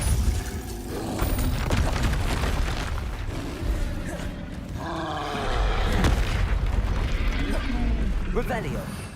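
Spell cast of Depulso in the video game Hogwarts Legacy, a loud booming burst amid dense, continuous game effects and noise, with a voice speaking over it.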